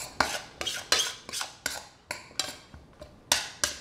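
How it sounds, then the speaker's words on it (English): A utensil stirs wilting greens in a pan for chickpea curry, giving a run of about ten sharp scraping clinks in a quick irregular rhythm, close and fairly loud, with no talk. "So just give it a stir."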